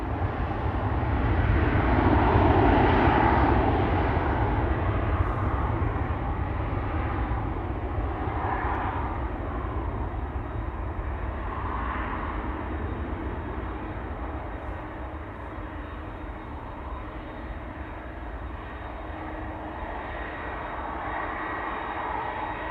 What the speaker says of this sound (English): As soon as those A330 engines turn our way, you immediately start hearing them and they're overpowering everything.